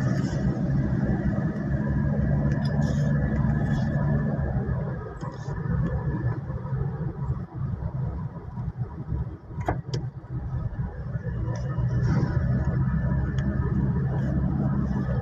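Road traffic on the South Luzon Expressway in Makati City, Philippines: a continuous close wash of car engines and tyre noise with passing vehicles and an occasional sharp click.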